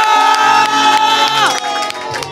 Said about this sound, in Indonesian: Tepuk tangan buat Raisa.